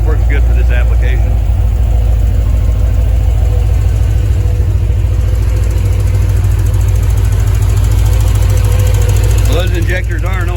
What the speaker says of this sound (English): those injectors are noisy